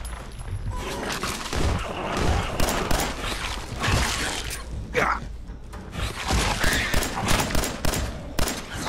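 Rapid gunfire bursts from the Fallout 4 video game, dense crackling volleys and booms repeating through the whole stretch with brief pauses, loud and close, while a voice speaks faintly over the shooting.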